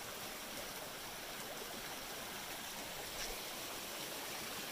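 Rainwater flows along a little outdoor stream, a steady gurgling wash that stays even and moderately close for the whole stretch, without any speech.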